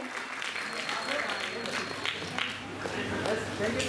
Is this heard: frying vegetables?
no